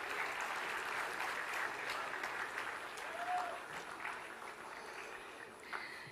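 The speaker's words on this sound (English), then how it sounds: "Keep the applause flowing," Sustained applause from a large audience at a convocation ceremony, a dense, even wash of clapping that continues steadily throughout, heard at some distance with faint voices mixed in.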